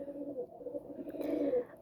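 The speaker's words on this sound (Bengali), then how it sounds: "আপনারা ভিডিওতে যে কবুতরগুলো দেখতে পাচ্ছেন সেগুলো আমার বাসারই কবুতর" Pet running pigeons cooing softly in a low, rolling murmur, close and faint, with a brief higher rustle near the end and no talking.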